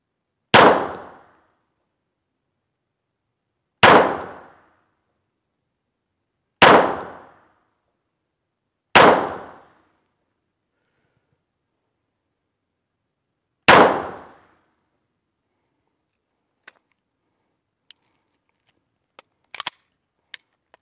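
An Arsenal Strike One Speed pistol fires five loud, sharp shots at irregular intervals, each fading quickly, followed by a few faint metallic clicks.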